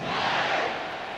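A stadium crowd roars in a College Football 26 simulation of UTEP vs. Texas, a dense, sustained wash of cheering that stays loud throughout the short burst.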